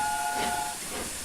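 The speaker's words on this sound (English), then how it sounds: "I like the whistle a lot." A steady, high-pitched steam whistle from the Flying Scotsman locomotive in Train Simulator holds a bright tone over a breathy hiss of steam, then the tone cuts out and the hissing carries on alone.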